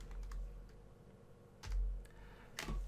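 Fingers tap on a computer keyboard at a command prompt, giving a few soft, scattered keystrokes with short pauses between them, quiet and close.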